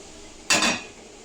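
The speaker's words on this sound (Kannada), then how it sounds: "ಸ್ವಲ್ಪ ಈ ಬೊಗೋಣಿ ಒಳಗೆ ಹಾಕ್ತೇನೆ ಅದನ್ನು ಪಾಕನ." A large wide metal cooking pot clanks once as boiling sugar syrup is moved into it, giving a loud, short metallic clatter with a brief ring that fades over a quiet background.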